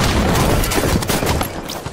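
Rapid gunfire and explosions fill a Halo 5 match on the Coliseum map, a dense, loud, continuous burst of shots and booms that thins slightly toward the end.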